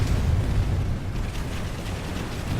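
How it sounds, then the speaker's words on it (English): Rocket explosion in a video game, a heavy booming blast with a sustained low rumble and crackling debris that stays loud across the whole stretch, with no talking. "Hit him with one more rocket."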